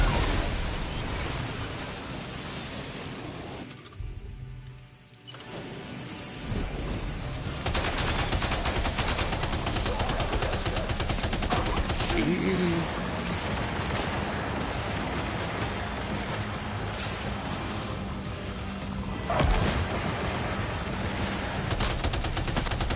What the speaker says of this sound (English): Here's the gunfire.